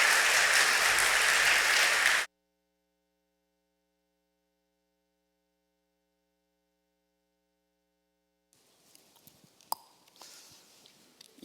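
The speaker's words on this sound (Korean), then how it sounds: "제가 박수를 받아서 참 죄송합니다" A Korean church congregation at a Sunday service gives loud, dense applause for about two seconds. It then cuts to near silence, followed later by faint rustling and small knocks.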